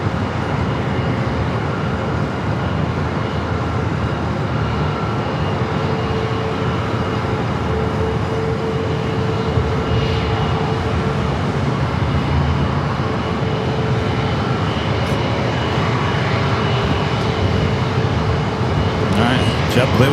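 A JetBlue jet takes off from runway 27 at San Diego airport, a steady broad roar that holds evenly throughout, with an air traffic control voice over it.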